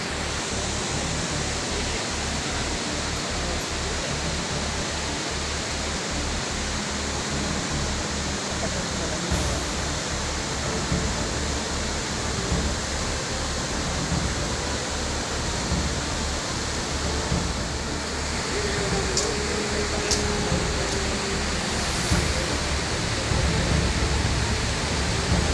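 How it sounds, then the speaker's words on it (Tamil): Heavy flood water rushing at Panchalinga falls after torrential rain, a dense, continuous roar of churning water that holds steady and loud from start to finish, with no voices. "பஞ்சலிங்க அருவியின் நீர்பிடிப்பு பகுதிகளில் கனமழை கொட்டி தீர்த்தது."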